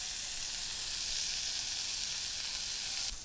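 Brioche buns toasting on a hot griddle give a steady, close, even sizzle that holds without a break and cuts off abruptly at the end.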